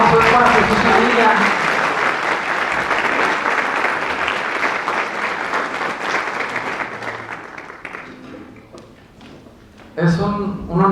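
An audience at a church event applauds loudly, dense clapping that fades gradually toward the end, followed by a speaking voice.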